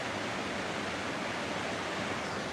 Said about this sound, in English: that's the river. That's making all the noise